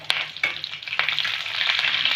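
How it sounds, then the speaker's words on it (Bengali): Half a spoon of nigella seeds and four slit green chillies frying in hot oil, a loud close sizzle with crisp crackles and a few stirring scrapes throughout. "ভেজে নেব যতক্ষণ না একটা সুন্দর গন্ধ বেরোচ্ছে ফোড়ন থেকে"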